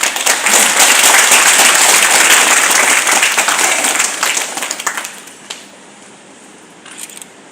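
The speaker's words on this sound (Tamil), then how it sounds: "இங்கே ஒரு கரகோஷம்" Applause from an audience at a spiritual magazine launch event, dense clapping that holds steady and then thins out into scattered claps and quiet by the end.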